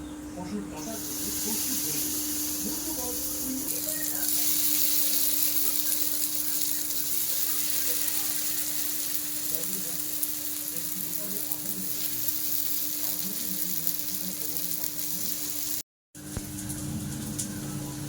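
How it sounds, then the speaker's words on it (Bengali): Palm fruit pithas fry in a little oil in a pan over very low heat, a loud continuous close sizzle with faint background noise, briefly cut off near the end. "সাদা কড়ার গায়ে তেলটা লাগিয়ে দেব আঁচটা একদম ধিমে করে দিয়েছি দিয়ে এবারে পিঠেগুলো দিয়ে দেব"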